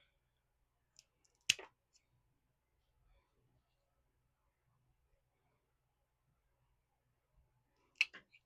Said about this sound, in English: So I'm going to snip right here.